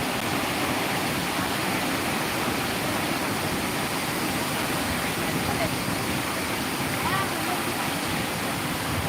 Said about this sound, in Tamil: தண்ணி எப்படி போயிட்டுருக்கு பாருங்கள் ஆச்சரியமாக இருக்குது